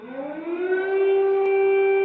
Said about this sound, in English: As air raid sirens rang out across Kyiv